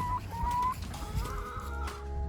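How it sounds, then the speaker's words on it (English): Laying hens in a chicken coop give a few drawn-out clucks and soft calls close by, over low rumbling background noise. "then there's all our laying hens"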